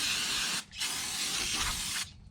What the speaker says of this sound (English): spray her off again